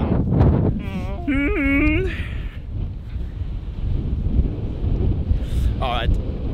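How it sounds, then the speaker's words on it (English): Steady low rumbling wind buffeting the microphone throughout in Brønnøysund, northern Norway, loud and close, with people talking over it near the start. "it's probably too windy"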